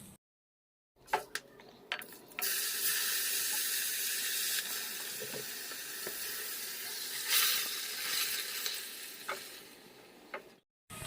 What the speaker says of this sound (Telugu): మనం పన్నీర్ ఫ్రై చేసుకుంటున్నాం కదా